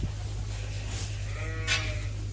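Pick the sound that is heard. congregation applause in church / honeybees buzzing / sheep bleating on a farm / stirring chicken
sheep bleating on a farm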